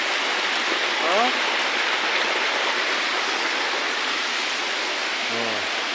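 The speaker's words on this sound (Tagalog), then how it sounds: "Lakas ng tubig." Strong water rushing down from a mountain stream, a dense, constant roar heard close, with a couple of brief voices over it.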